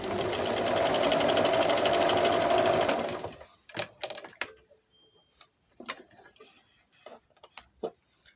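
A Singer 1288 sewing machine runs close up for about three seconds in a steady rhythmic whir, sewing zigzag stitches. It then halts, leaving a few sharp clicks and soft handling noises.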